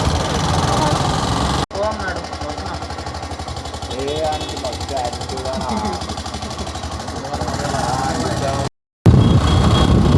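A motorbike engine runs steadily throughout, a continuous mid-pitched drone with a brief cutout near the end, while a voice or two talks over it.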